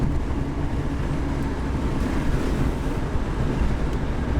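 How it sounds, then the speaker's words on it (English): Steady loud road and wind roar inside an older Jeep XJ driving with the window open, a constant rushing buffet with low rumble and no pauses. "it's about to get really loud in here as I gotta open up the window"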